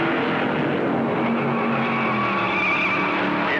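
Stock cars racing in the 1957 Southern 500, several engines roaring together in a loud sustained drone with shifting whining pitches, close and continuous with no talk.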